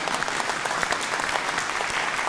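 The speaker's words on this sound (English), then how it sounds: "You can give a round of applause." Steady applause from the audience at the 2017 Global Peace Economic Forum in Manila fills the entire stretch, dense and even, with no talk on top.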